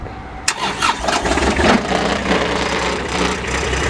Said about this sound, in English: it does start and run with the jumper